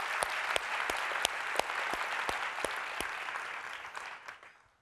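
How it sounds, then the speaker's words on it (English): An audience applauds panel speakers at an education conference, a dense, steady roar of clapping with a few sharp, close claps cutting through, then it fades out toward the end. "Can we give them another round of applause"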